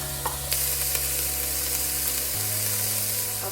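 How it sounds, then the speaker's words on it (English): Onions and garlic sizzling in a spoonful of olive oil in a pot, a steady close crackling hiss running throughout with a low hum underneath. "I'm just gonna add maybe like a tablespoon of olive oil. Really don't need much. Okay, let's add our onions and garlic."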